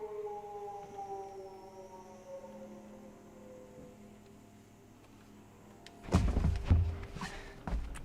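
A Silent Hill–style siren in the horror game Perception: a slow, wailing tone that drifts gradually downward and fades, followed by a cluster of heavy thuds and knocks near the end.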